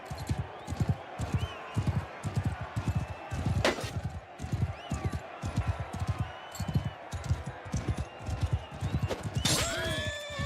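A horse in the video game Old Realms gallops with rapid, rhythmic clip-clop hoofbeats throughout, joined by two sharp whinnies partway through and near the end, close and prominent over background game noise.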